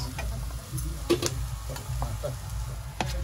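Paneer pieces dropped into sizzling fried masala in a pan, with a soft steady frying hiss, a few sharp ticks and spoon scrapes, and a short clatter near the start.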